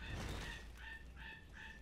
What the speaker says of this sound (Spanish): ¿Se escucha mi perico?